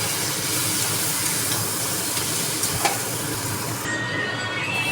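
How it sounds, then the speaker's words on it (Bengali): Curry being sautéed in a pan after cumin powder and chili powder go in, giving a steady close sizzle and hiss that runs unbroken throughout, with a few faint scrapes of stirring. "এই যে জিরে গুঁড়ো দিয়েছি, লঙ্কা গুঁড়ো দিয়েছি, ভালো করে কষিয়ে নিয়ে জল দিয়ে দেবো।"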